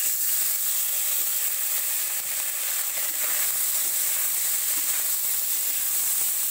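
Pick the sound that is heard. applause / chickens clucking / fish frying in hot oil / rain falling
fish frying in hot oil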